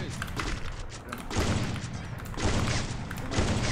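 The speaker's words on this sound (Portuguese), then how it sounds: "Não tá contando meus tiros, não, velho." Bursts of gunfire in Free Fire ring out in quick clustered volleys, loud and close, with a voice talking over them.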